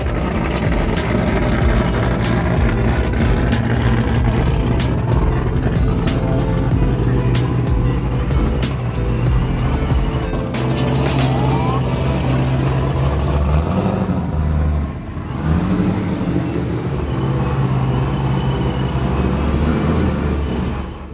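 A loud, continuous engine rumble from an LS-swapped car as it pulls into a garage, holding a steady drone with a brief dip in the middle.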